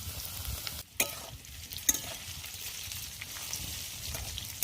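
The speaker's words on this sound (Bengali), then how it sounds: "তেলটা গরম হয়ে গেছে আমার, এবার আলুগুলো ভেজে নেব।" Potatoes fry in hot oil in a pan for a chicken biryani, with a continuous crackling sizzle, a few bumps and scrapes from the utensil, and no voices.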